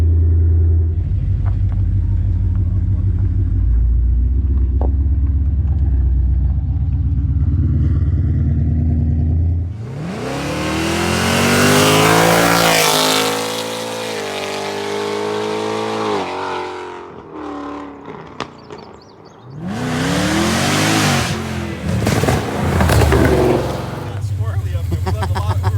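Tuned Whipple-supercharged GT car pulling away down a street, a deep rumbling engine that surges into loud, rising acceleration, eases off, then roars again, with people talking over it.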